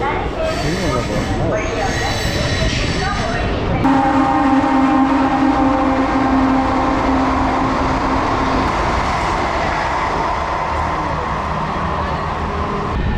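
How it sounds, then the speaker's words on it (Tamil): An electric MEMU commuter train rumbles and squeals as it slows into Guduvancheri railway station, with a steady electric whine, then settles into a low hum while faint voices talk. "இப்போ ட்ரெயின் நிற்கிறதாங்க குடுவாஞ்சேரி ரயில்வே ஸ்டேஷன்"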